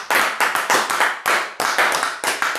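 Church congregation clapping in unison to acclaim God, loud rhythmic applause in evenly spaced bursts, close and without speech.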